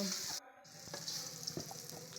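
Potato pieces fry lightly in hot oil in a kadai that was just used for eggplant, giving a steady close sizzle and hiss with a few soft stirring knocks.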